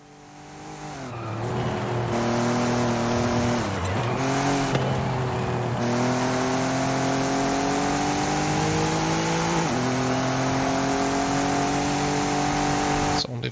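Racing cars in a video game with a BMW close behind, a loud continuous engine whine climbing and dropping through gear changes, with brief tyre squeals and skids, no talk.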